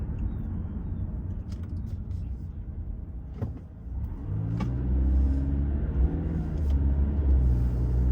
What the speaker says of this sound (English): So I'm just driving, heading toward the park now.